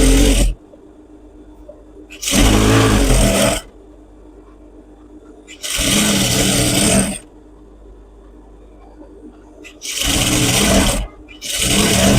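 A sewing machine stitches the waistband of a ladies' pant in four separate bursts of fast, even whirring, each lasting one to two seconds, with quiet handling pauses in between.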